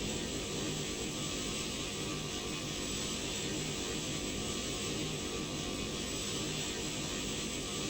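A propeller airplane engine drones steadily in the X-Plane 12 flight simulator, a constant broadband roar with an even hum and no pauses, loud and close throughout.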